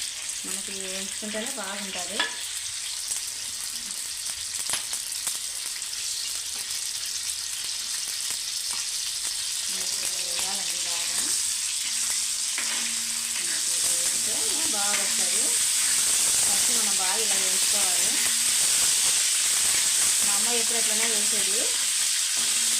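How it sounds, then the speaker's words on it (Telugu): Liver pieces fry in hot oil with a steady, loud sizzle and crackle throughout, broken by periodic scraping stirs, with no talking. "ఫస్ట్ మనం లివర్ బాగా నూనెలో వేయించుకున్నాము"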